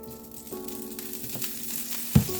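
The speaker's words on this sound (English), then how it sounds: "We're letting the griddle heat up so that we can put our shrimp on there. A little olive oil." Olive oil sizzles on a griddle heating up for shrimp, a steady close frying hiss with a faint hum, ending in a brief louder clatter.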